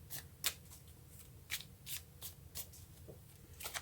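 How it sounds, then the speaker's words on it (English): Tarot cards being shuffled by hand in a quiet room, giving a soft run of papery riffles and slaps broken by sharper crisp bursts at irregular intervals, close and fairly faint. "Okay, let's get another card."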